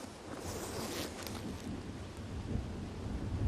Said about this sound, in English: Can hear the wind howling.